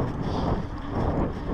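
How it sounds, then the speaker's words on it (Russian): A strong wind roars steadily into the microphone with a dense low rumble for the whole short moment. "Ветер тут дует очень сильный"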